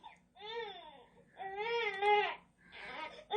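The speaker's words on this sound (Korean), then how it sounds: "옹달샘가에는 갓난아기가 울고 있었어요." A newborn baby cries by a spring in a narrated Korean folk tale, giving three wailing bursts with short breaks between them, close and fairly quiet, with no talking over it.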